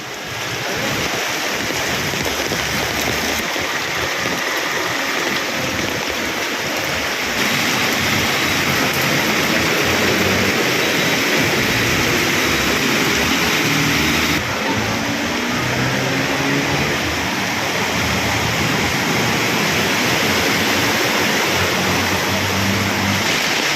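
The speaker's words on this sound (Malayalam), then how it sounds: "കനത്ത മഴ തിരുവനന്തപുരം നഗരത്തിൽ തുടരുകയാണ്" Heavy rain pours over waterlogged streets in Thiruvananthapuram city, making a loud, continuous hiss and rush of water, with some wind buffeting and no voices.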